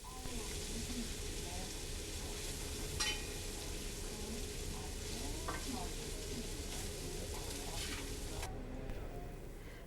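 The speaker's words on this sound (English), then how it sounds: "Beef stroganoff is fried in this big frying pan." Steady sizzling of beef stroganoff frying in a big pan in a ship's galley, with faint stirring scrapes and a low broadband hiss throughout, no clear voices.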